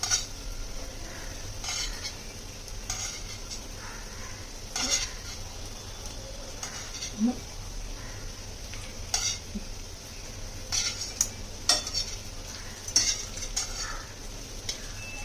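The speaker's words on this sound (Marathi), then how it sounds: "आता इथे मी या वड्या परतून घेते बघा." Vadis sautéed on a tawa for a Marathi ghevda dish: a soft, steady sizzle with intermittent spatula scrapes and light metallic clinks, close and fairly quiet, without speech.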